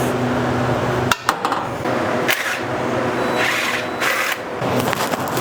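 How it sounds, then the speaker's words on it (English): Metal clanks and clinks ring out as a bolt is pulled and the power steering pump is dropped out of a 1990s-style Ford Mustang drift car in a garage, a few sharp impacts standing over steady shop noise with no talking. "I'm gonna pull this bolt off, and then hopefully I should be able to just drop the power steering pump out"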